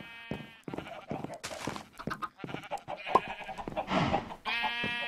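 Several sheep bleat in Minecraft, short wavering cries repeating close by across a few seconds, with people talking underneath.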